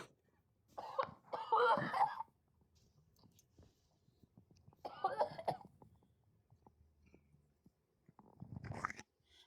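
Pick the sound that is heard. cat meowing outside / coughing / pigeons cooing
coughing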